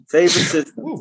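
One loud, close sneeze bursts out from a person during a podcast conversation, followed by a short vocal sound right after.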